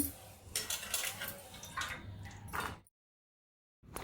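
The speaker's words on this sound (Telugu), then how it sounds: "దీన్ని ముందుగా మనము వాటర్లో వేసేసి ఒక టూ టైమ్స్ బాగా కడిగి క్లీన్ చేసి పెట్టుకోవాలండి" Fresh green toor peas are washed in water in a bowl, with close splashing, dripping and light clinks of the peas and vessel, followed by about a second of silence.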